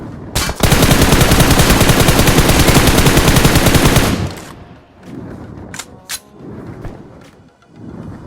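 Sustained automatic gunfire from a BGMI battle royale match, a dense rapid burst lasting about four seconds, followed by quieter scattered shots and thuds.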